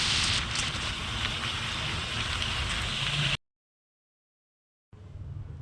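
Rain pours steadily during a motorbike ride through foggy hills, a dense hiss with wind buffeting the microphone, then it cuts to silence before resuming more faintly.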